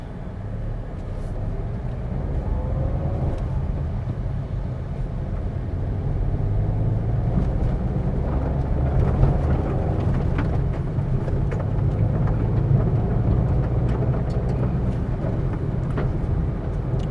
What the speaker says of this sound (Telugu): 2024 సుజుకి షిఫ్ట్ వెహికల్ అయితే ఇప్పుడు రైడ్ చేయబోతా ఉన్నాను